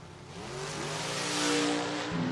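A COPO Camaro drag car launches off the line at a footbrake drag race, its engine roaring loud and sustained with pitch climbing as it pulls away.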